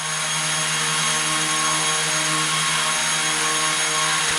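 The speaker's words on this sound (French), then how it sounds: "Le drone ne veut pas s'arrêter." Small ZLL SG108 Pro toy drone with motors whirring steadily at a high, constant pitch, close and loud, with a dense buzzing hum running without a break and no voices over it.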